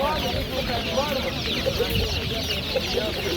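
Dense chorus of one-month-old chicks cheeping continuously at a poultry market, with a faint murmur of people in the background and steady crowd noise throughout.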